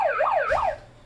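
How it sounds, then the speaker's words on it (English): An emergency vehicle siren wails in rapid rising and falling sweeps, loud and close, for about a second before cutting off. "She probably wondered why the fuck she heard sirens."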